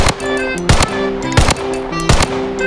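Vector SMG from Blood Strike firing in loud, close bursts of rapid automatic shots, about four short sprays separated by brief pauses, no talking.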